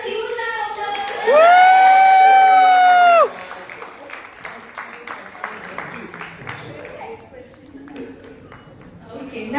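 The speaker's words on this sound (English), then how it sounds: "Let's have a huge round of applause for" A crowd at a 25th birthday celebration lets out a loud, sustained high cheer or whistle lasting about two seconds. Scattered clapping and general crowd noise follow and continue, with children's voices mixed in.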